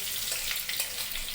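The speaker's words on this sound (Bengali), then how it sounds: "গরম হলে কড়াইয়ের মধ্যে আমি জিরে, তেজপাতা, কাঁচা লঙ্কা" Cumin, bay leaf and green chili sizzling in hot oil in a kadai, a dense, loud, continuous close hiss with slight crackling swells.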